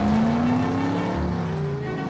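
A cartoon car speeds up during a police chase, its engine pitch climbing steadily in a smooth revving tone, loud and close with no talk.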